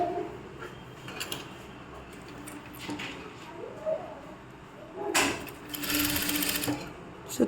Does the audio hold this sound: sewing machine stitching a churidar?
yes